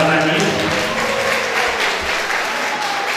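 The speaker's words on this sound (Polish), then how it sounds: "Brawa na nich." An audience applauding a choir and ensemble, sustained even clapping from a crowd, with faint voices underneath.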